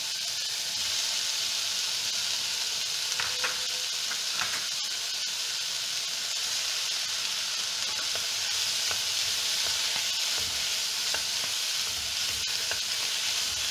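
Onion and capsicum fry in a pan for chilli beef, giving a steady, loud sizzle and hiss throughout, with occasional faint scraping from stirring and no voices.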